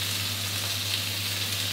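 Bean sprouts seasoned with fish sauce, ground pepper and a little spring onion stir-fry in a pan, giving an even, steady hiss of sizzling oil with a low hum beneath and no distinct stirring strokes.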